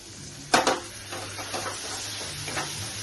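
Yogurt goes into mutton masala frying in oil, a sharp sizzling burst followed by softer crackling and a few light scrapes, close by.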